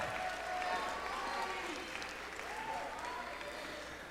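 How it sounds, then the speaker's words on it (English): A crowd applauds after a high school wind symphony performance at a spring band concert, a dense steady patter of clapping filling the room while voices talk over it. "one more round of applause for the Wind Symphony, Miss Miller and guest conductors."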